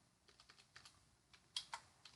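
Python code is typed on a computer keyboard, a handful of quiet, close, irregular key clicks in a short burst, with no talk.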